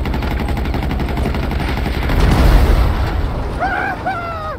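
Enemy gunfire in a Grand Theft Auto V battle, loud and continuous with rapid bursts and booming blasts building into a heavy roar, then a few higher whining tones near the end.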